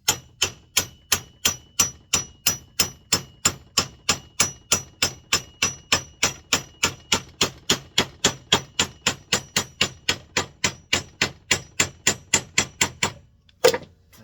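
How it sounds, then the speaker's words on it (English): A steel hammer pounds the arbor out of the tapered spindle of a 1962 Sprunger Brothers wood lathe: steady metallic blows, about three per second, ring out sharply for a long run, then stop with one last louder strike. "I have a tapered spindle and then a steel hammer. Let's pound this arbor out of here."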